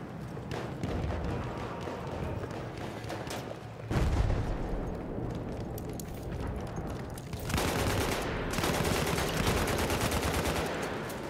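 Dense gunfire from the Battlefield 1 video game on the Zeebrugge conquest map, rapid overlapping shots and bursts running continuously with louder surges partway through, busy and close throughout.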